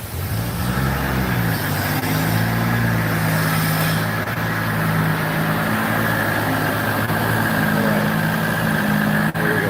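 A car engine runs steadily on a dyno, a loud continuous drone with a low harmonic hum that shifts pitch slightly early on before holding level, with no voices.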